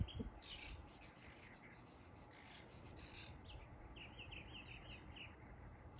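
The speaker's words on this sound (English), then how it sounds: "I never realized I had so many bird noises in my backyard." Faint birdsong in a backyard: several birds chirping and trilling in short phrases in the distance over a low outdoor rumble.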